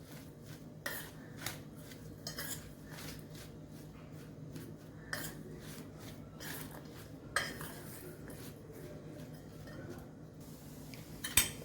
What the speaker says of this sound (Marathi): आता हे आपण मिक्स करून घेणार आहोत.